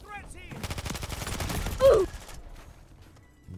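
Bursts of Eradicator gunfire in a Call of Duty multiplayer match, a rapid rattling volley of shots over about two seconds followed by fainter distant shots.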